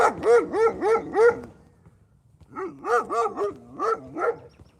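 A dog barks in two bursts of four or five sharp, close, loud barks each, separated by a brief quiet gap, with no talking over them.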